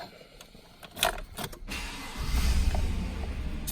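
A 2014 GMC Sierra SLE pickup truck is started with the key: a few clicks and rattles, then the engine cranks and settles into a steady low idle close by.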